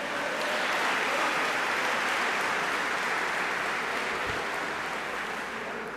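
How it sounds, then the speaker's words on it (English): Steady, dense applause from a large congregation fills the hall, sustained and even throughout before easing slightly at the end. "Can we give Brother Hafiz another round of applause?"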